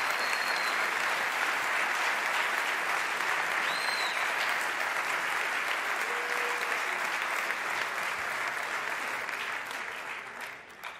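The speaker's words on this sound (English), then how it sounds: "Huge round of applause for these three fantastic young riders in Moto3." An awards-ceremony crowd applauds three young Moto3 World Championship riders on stage, a steady dense wash of clapping that holds evenly, then thins and fades near the end.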